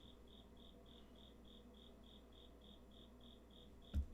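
Insects chirp in a steady, evenly spaced pulsing trill, soft and continuous throughout, ending with a brief thump.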